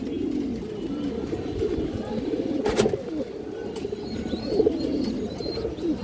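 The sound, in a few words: pigeons cooing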